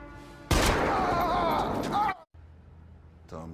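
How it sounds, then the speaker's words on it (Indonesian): A gunshot aimed at a man's leg in a film scene starts with a sudden loud blast. A noisy, lingering tail follows, mixed with voices, then a brief drop to quiet. "Adam langsung menembak kaki Mukhtar"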